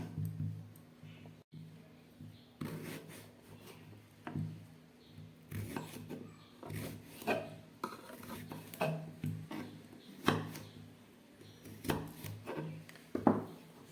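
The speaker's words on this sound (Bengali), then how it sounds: "টমেটোগুলোকে এরকম সরু সরু করে আমি কেটে নিচ্ছি" Tomatoes are cut into thin strips with a knife, giving a close, uneven series of soft taps on a board with scraping and rubbing between strokes, quiet overall and without talk.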